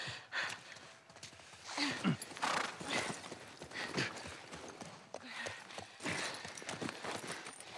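Horse hooves clip-clopping in The Last of Us Part 1 on PS5, an irregular walking rhythm of soft thuds mixed with game ambience, breaths and a snort-like gasp.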